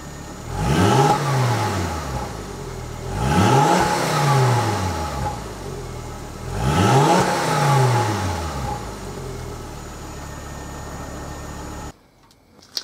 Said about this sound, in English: I give it a little bit of an idle and a little bit of a rev